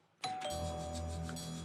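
A quiz contestant's buzzer bell rings once, loud and close, its bright, sustained electronic tone holding steady after a sharp onset.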